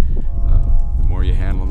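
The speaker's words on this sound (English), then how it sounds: "these cattle are just straight off the ranch, Angus cattle that you handle every day" Open Angus heifers fresh off the ranch moo loudly and close by, a drawn-out bovine bellow rising near the end over a heavy rumble of pen noise and movement.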